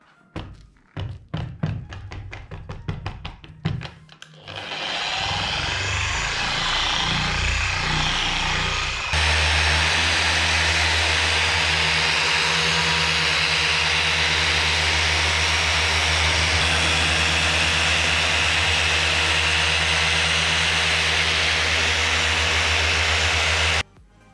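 A car polishing machine, first a rapid series of knocks and starts, then a steady loud whine. It settles into a slow pass at speed 3 with a continuous droning hum for the rest of the clip and no voices.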